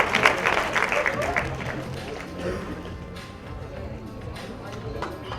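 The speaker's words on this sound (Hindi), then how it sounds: "Come on, जोरदार तालियां हो जाए." An audience at a film trailer launch event for Tanhaji breaks into clapping that is loud at first and then thins out and fades. Indistinct crowd noise sits underneath.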